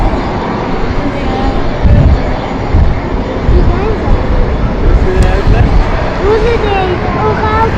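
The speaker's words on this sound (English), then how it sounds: "Absolutely stunning landing now." A fixed-wing airliner lands at London City Airport, its engine roar steady and loud across the whole stretch, with murmured crowd voices underneath.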